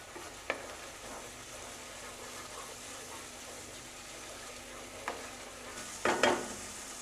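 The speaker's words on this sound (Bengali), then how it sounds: "তো এইবারে মশলাটাকে খুব ভালো করে কষিয়ে নিতে হবে।" Masala for paneer cooks down in a pan, a low constant sizzle with occasional spoon scrapes and clatter, a louder rattle of stirring near the end.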